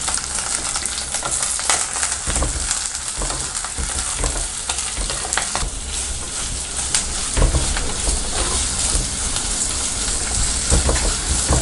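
Onions and curry leaves sauté in a pan for a village-style mutton kuzhambu, giving a steady, loud sizzle with frequent scraping stirs throughout, close up and with no talking.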